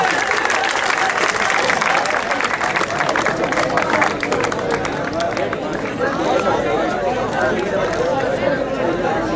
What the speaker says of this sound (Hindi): आपकी भरपूर तालियों